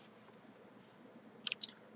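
Two sharp key presses on a computer keyboard, the V key struck twice in quick succession over a quiet room hum, close and crisp.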